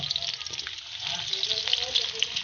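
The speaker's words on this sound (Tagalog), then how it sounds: "Gigisahin nyo lang yan." Ingredients for kaldereta sauté in a hot pan with a steady, close frying sizzle and light stirring that continues throughout.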